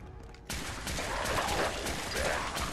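Fast, continuous gunfire in Fallout 4, a dense stream of shots that begins suddenly after a short lull and keeps up steady and loud to the end.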